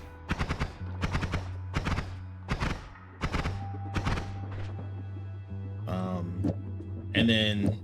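Spark bolt spells fire from a wand in the Noita video game, a series of sharp, evenly spaced shots followed by two brighter zapping bursts, heard clearly and close with no talking.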